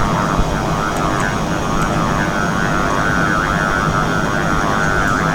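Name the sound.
AIM-7 missile launch in a flight combat video game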